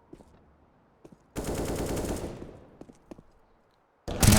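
Automatic rifle fire rips out in a sustained loud burst on the Nuke map in Counter-Strike, with a few faint clicks before and after and a second sharp burst at the very end.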